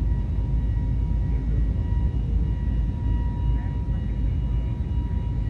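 Airbus jet engines at climb thrust in the X-Plane 12 flight simulator, a steady, loud broadband roar with a faint tonal whine, continuous and unchanging throughout.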